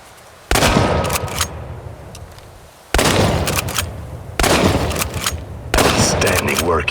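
Shotgun blasts in the game Chernobylite: four loud, booming shots spaced a second or two apart, each with a long rolling decay and echoing tail, close and forceful.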